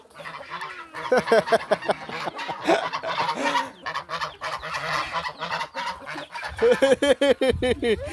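Chickens being fed in a Naga village in Purul cluck and honk in rapid bursts, close and loud, with brief pauses between flurries and a faint voice now and then.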